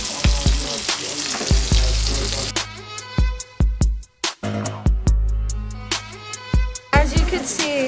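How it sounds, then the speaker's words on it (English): Steak fries frying in a pan give a steady sizzle broken by repeated sharp clacks and knocks as they are handled. "You should cook your steak fries for 6 to 7 minutes or until golden brown."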